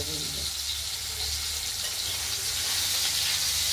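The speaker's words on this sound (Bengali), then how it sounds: "এই আলুগুলোকে আমরা এই ফোড়নের সঙ্গে ভেজে নেব।" Potatoes frying with tempered whole spices in a pan for a cabbage curry, a steady dense sizzle and hiss filling the whole stretch with a low rumble beneath, close and fairly loud.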